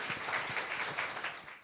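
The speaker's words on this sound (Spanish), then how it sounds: "les quiero pedir a todos un aplauso para Yasmín, por favor." Audience applause at a business forum on digital talent, many hands clapping in a steady patter that stays fairly quiet and distant and fades out at the end.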